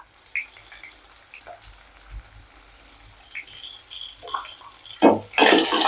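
Shallots and garlic sauté in a pan for tamarind kuzhambu, a faint sizzle with scattered utensil clinks that swells into a louder, hissing burst near the end.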